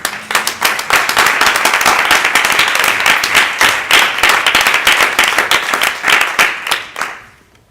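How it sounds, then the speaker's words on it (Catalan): Audience at an anniversary event applauding, a dense, steady round of clapping from a crowd indoors, sustained for several seconds before fading out. "Penso que mereix un fort aplaudiment"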